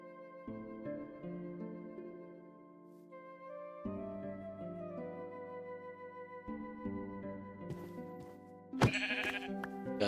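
Sheep bleating in the Minecraft modpack Crazy Craft, several game-sound bleats over steady background music, with a sharper, louder burst of effects near the end.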